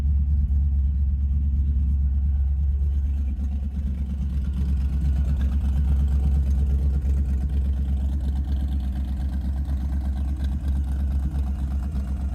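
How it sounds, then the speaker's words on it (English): An LT1 V8 engine in an all-steel 1932 Ford Vicky hot rod with a gear drive idles with a deep, steady rumble, loud and close, holding an even throb throughout with no voices. "It's got an LT1, man. These motors scream."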